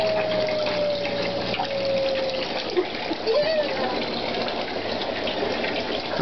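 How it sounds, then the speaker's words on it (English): A washing machine runs beside a wash sink, giving a steady, loud churning and watery rush with a low hum throughout, faint tonal whines drifting in and out. "I'm turning off the washer because it's so noisy."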